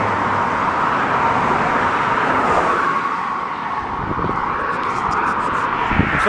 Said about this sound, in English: I'm surprised how much traffic there is today.